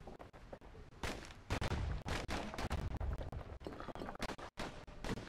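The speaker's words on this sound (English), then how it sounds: "Oh, you really gave me double pistols." Double pistols fire in the action game Bastion in rapid, uneven bursts of sharp cracks, loud and close, alone with no talk.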